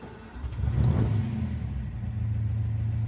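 A Daimler Dart car engine in need of a tune-up starting, a short rising surge that settles into a steady low rumbling idle, close and without voices.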